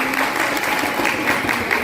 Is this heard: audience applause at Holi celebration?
yes